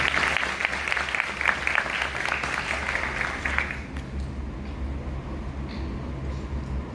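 Applause at a school academy ceremony: a dense, steady clapping crowd fills the first four seconds, then fades to a quieter room murmur.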